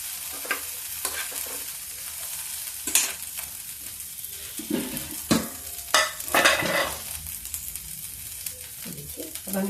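A tadka tempering for amaranth (chaulai) kadhi sizzles steadily in hot oil, broken by sharp stirring clinks and scraping bursts that come at irregular moments, close and fairly quiet.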